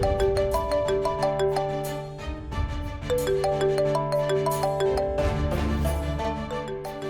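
Phone ringtone signalling an incoming video call, a bright repeating melodic tune playing loudly and steadily with no voices over it.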